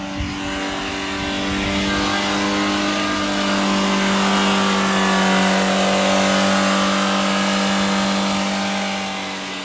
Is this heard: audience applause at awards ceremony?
no